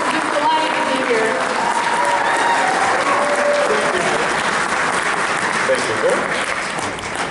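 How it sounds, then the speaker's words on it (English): A convention audience at TeslaCon applauds Viscount Bob during opening ceremonies, a dense, steady round of clapping that fills the room at even loudness, with a few faint voices and whoops mixed in, tapering slightly at the end. "A round of applause"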